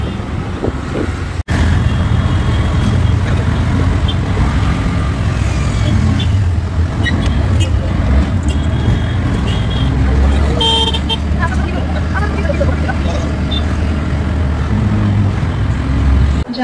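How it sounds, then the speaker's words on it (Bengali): An auto rickshaw carries passengers through Mumbai traffic: a steady motor rumble runs throughout, horns toot around it, vehicles pass close by, and voices carry faintly in the background. "আমরা এই যে অটোতে উঠে গিয়েছি, অটোতে করে স্টেশনে যাব"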